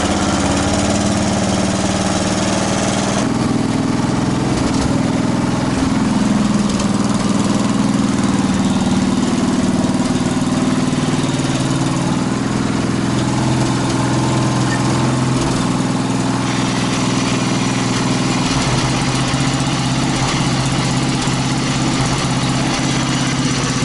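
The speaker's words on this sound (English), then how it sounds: "This mower is really stinky. It runs really rich." A lawn mower engine that runs rich catches and settles into a loud, steady, close idle drone that continues throughout, with a change in tone a few seconds in.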